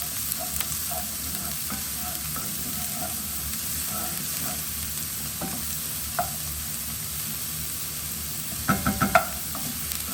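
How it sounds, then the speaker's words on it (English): Red onions fry in a pan with a steady, close sizzle, while a utensil stirs and scrapes them now and then, and a short burst of clinks comes near the end. "Gonna let those fry just for a second, just like that."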